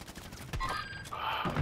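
Call of Duty: Warzone gunfire crackles in quick bursts of shots, moderately loud and close, over a busy game-sound background.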